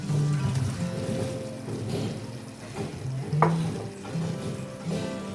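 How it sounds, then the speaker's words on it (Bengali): Fried potato and pointed gourd are stirred in spiced oil with raisins, giving soft scraping and gentle sizzling from a nearby pan, with a few louder clinks of the spoon against the pot and no talking. "এবার ভালো করে নাড়িয়ে নেব।"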